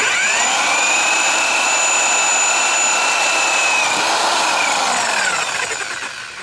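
A high-pitched power drill whines steadily up close while building a scooter rack for an RV, its pitch shifting slightly before winding down at the end.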